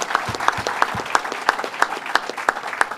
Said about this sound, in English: let's give the district attorney a big round of applause for the great job that he is doing